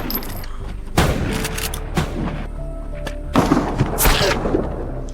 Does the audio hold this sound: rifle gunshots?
yes